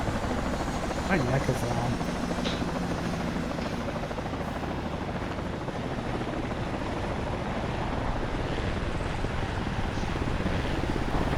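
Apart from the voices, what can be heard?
helicopter landing nearby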